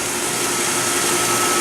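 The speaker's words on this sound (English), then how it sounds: "So what you heard there are just the pumps starting." Steady broadband machine hum of a 6-ton Riedel laser chiller's water pumps starting and running, a continuous whooshing drone with low rumble, fairly loud and unbroken throughout.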